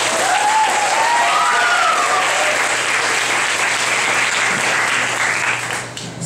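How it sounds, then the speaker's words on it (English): Sustained audience applause for a cancer survivor at a card-making event, a dense, loud wash of clapping that holds steady for several seconds before tapering at the end, with a faint voice briefly rising over it early on. "give her a big round of applause"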